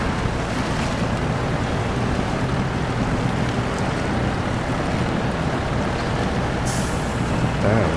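A CAT CT680 truck in SnowRunner grinds along a rough route, its engine a steady dense roar with a continuous low rumble and hiss throughout, plus a brief higher burst near the end.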